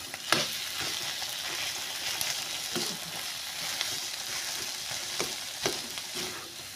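Ingredients for a paneer curry fry in a pan with a constant close sizzle, punctuated by regular scraping knocks of a spatula stirring.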